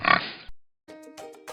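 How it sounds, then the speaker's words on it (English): A pig oinks in one loud, close grunting burst, then after a short pause a few softer snorts and squeals follow on their own. "This is a pig."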